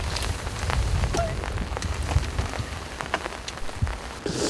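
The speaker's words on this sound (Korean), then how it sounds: "아 비가 와가지고 이 오늘 날마다 비가 와갖고" Spring rain falls steadily during a freshwater crucian carp fishing session, a dense, continuous patter of drops hitting surfaces nearby, with scattered louder splats and no talking.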